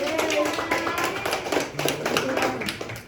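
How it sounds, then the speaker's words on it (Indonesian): A class of students claps for a classmate during a mathematics lesson, a quick run of patterned, rhythmic claps in a classroom with voices mixed in. "Beri tepuk tangan."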